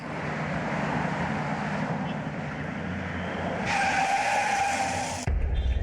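A car in a police drama setting turns sharply with tires skidding, a sustained loud screech over engine noise that rises near the end and cuts off abruptly.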